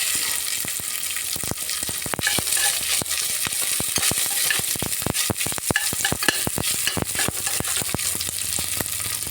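Cashews and raisins fry in hot oil with a steady, dense sizzle and frequent sharp crackles and pops throughout, close by and fairly loud.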